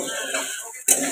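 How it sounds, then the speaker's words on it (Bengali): A spatula scrapes and clinks against a pan while rice is stir-fried in a home kitchen, a short close metallic rasp followed by a brighter clattering burst that cuts off sharply. "এদিকে আমি ভাতটা ভাজছি"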